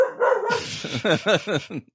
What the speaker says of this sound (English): our dog, he got wind of something, and I don't know, he's on full high alert